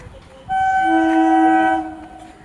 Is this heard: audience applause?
no